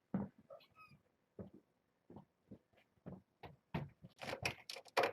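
Kittens and their mother cat make soft, short mews and small vocal sounds in several quiet bursts, close by, with a denser cluster of higher sounds near the end and no talking.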